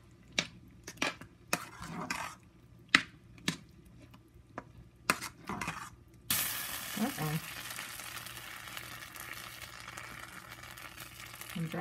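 Sliced apples drop into a hot pan for an apple pie filling with lime juice, breaking into a loud, steady sizzle after several sharp clinks and knocks of utensils against the cookware.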